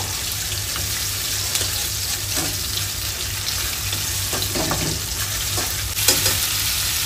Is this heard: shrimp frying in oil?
yes